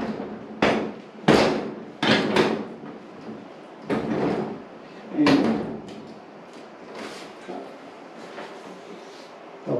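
A flat-screen TV being lifted by one person and hooked onto its wall mount, giving a series of sharp thuds, knocks and scraping bumps close by, spaced irregularly with quieter handling noise between.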